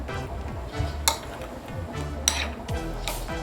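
A metal spoon mixes salt into raw chicken in a bowl, giving a few sharp clinks against the dish amid soft, wet stirring and scraping.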